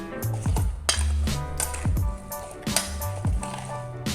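Apples with brown sugar being stirred in a pan, with scraping and clinking of a utensil against the metal in a steady series of close, irregular strokes and no talking.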